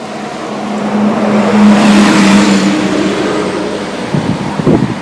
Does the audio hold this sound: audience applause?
no